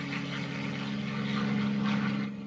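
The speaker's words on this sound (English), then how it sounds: "The roar of the Merlin engine, for many, is the sound of the Second World War." A Spitfire's Merlin piston engine roaring in flight, a steady propeller drone with a strong low hum that swells slightly toward the middle and eases off at the end, with no speech.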